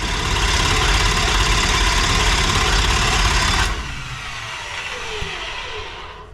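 A 438 cubic inch wide-bore dirt late model racing engine is spun over to build oil pressure, giving a loud, steady mechanical drone close by for nearly four seconds before dropping to a quieter whir that fades out.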